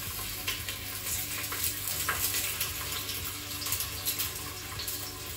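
Sausages searing in the base of a pressure cooker pot give a steady, dense sizzle with faint crackles throughout, close and continuous with no voices.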